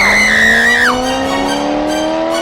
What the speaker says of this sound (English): The car takes off down the street and enters the freeway system at a high rate of speed.